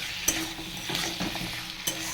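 Egg curry with green peas frying in a pan, stirred with a few distinct scrapes and clacks of the spoon over a steady close sizzle.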